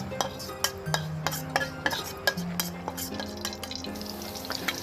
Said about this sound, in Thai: ตะไคร้ทอดกรอบ